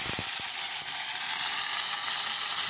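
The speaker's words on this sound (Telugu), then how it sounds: "ఫస్ట్ రొయ్యలు మాత్రమే ఆయిల్లో వేపుతాను అనమాట." Prawns frying in oil give a loud, continuous hissing sizzle up close, with a few quick clicks of a utensil at the start.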